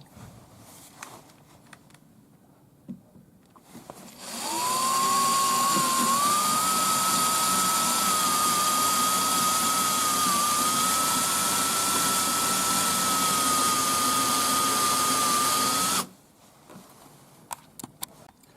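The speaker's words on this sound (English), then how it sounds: "So I'm just going to drill my holes." An old corded power drill bores holes for a pipe ring bender, a loud sustained whine lasting about twelve seconds, rising in pitch as it spins up, between quieter handling noises.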